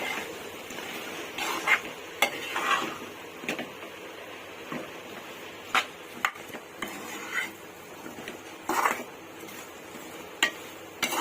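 A spoon stirs cut moringa drumsticks into fried eggs and onions in a pan for egg curry, giving quiet intermittent scrapes and metallic clinks against the pan over a faint background hiss.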